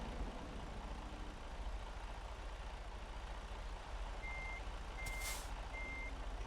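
Reversing alarm beeps from a truck backing a trailer in American Truck Simulator, a few evenly spaced electronic tones late in the clip over a steady low engine rumble, no talk.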